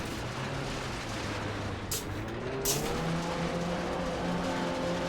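A rally car racing in Richard Burns Rally, its engine droning steadily and climbing in pitch as it accelerates, with a couple of brief gravelly bursts from the tyres, loud and continuous with no talk.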